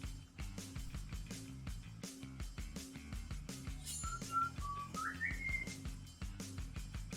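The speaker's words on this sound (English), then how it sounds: "Did anyone else hear that loud bird" An outdoor bird gives a brief, whistle-like call that rises in pitch, faint and distant, over a busy, rhythmic tapping background during an indoor card game session.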